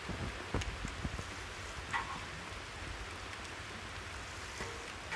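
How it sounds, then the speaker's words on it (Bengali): Rain falling outdoors over a fish pond: a steady, soft wash of drops and patter, fairly quiet and continuous, with a few sharper taps and low rumbles in the background and no voices. "শেষের দিকে দেখা যাচ্ছে বৃষ্টি চলে আসছে এখন এই মুহূর্তে"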